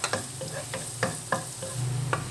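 Chopped garlic sizzles steadily in hot oil in a pan, with a spoon scraping and stirring at regular intervals, sharp clicks of the utensil rising over the continuous fry, close and moderately loud with no talking.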